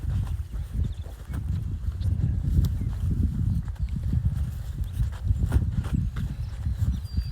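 Hooves of spring-pasture cattle thud and shuffle in a dense, irregular patter up close, with a steady low rumble of movement across the herd.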